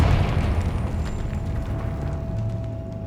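Confringo, an explosive spell in Hogwarts Legacy, set off in a decayed catacomb: a heavy booming blast that rolls and rumbles, loud at first and slowly fading, with a faint tonal hum underneath.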